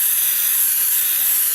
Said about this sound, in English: I'm spinning it around so I can continue to spray away from my edge